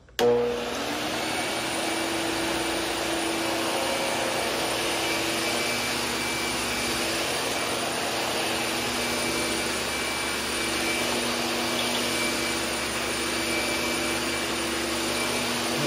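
Upright vacuum cleaner on carpet at its lowest speed, its brush roll spinning in a steady, fairly quiet continuous drone with a constant motor whine and no speech.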